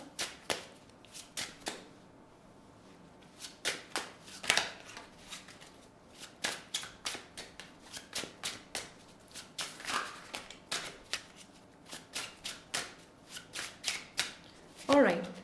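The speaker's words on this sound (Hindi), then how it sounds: "So let me shuffle." Tarot cards being shuffled by hand, a long series of crisp riffling and slapping bursts in an uneven rhythm, close and distinct.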